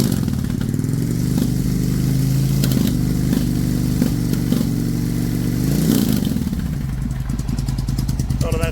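Suzuki Intruder 1400 V-twin motorcycle engine idling low and warm after carburetor cleaning, a loud close, lumpy rhythmic thumping with brief blips of revving, steady throughout.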